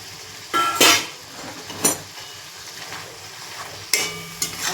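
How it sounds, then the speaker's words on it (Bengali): A utensil scrapes and knocks against a pan as chicken masala with green chillies and tomato is stirred. There are several sharp clanks over a low background sizzle and no talking. "যতক্ষণ তেল ছাড়বে ততক্ষণ মশলা কষতে থাকবো।"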